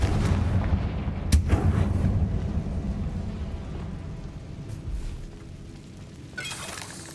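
A Confringo fire spell blasts in the Hogwarts Legacy video game, a sharp explosive crack followed by a long rumbling, crackling roar that slowly fades, with a second burst near the end; no voices.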